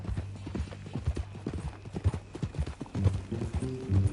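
Horse hooves clip-clop in a steady walking rhythm in the Red Dead Redemption 2 video game, close and fairly loud, with a low game music drone underneath throughout.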